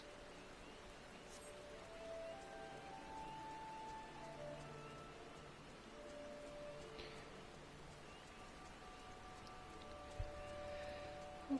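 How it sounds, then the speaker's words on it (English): Soft, steady rainfall patters in Final Fantasy XIV, a low continuous wash with faint tonal game sounds drifting over it and a couple of small clicks near the end. "Oh my god, it's still raining."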